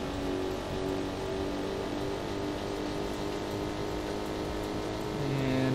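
A Corvette in a PC arcade racing game drones steadily with a constant engine tone and road noise throughout, a slight rise in pitch near the end, and no talking.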